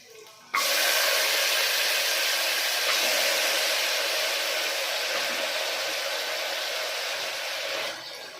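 Washed field beans (avarekayi) drop into a hot frying pan while sambar is being made, setting off a sudden loud sizzle that holds steady for several seconds, then eases off, with no voices.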